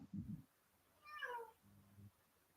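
A cat gives a single short, faint meow close by, with brief low thumps of handling before and after and no talking.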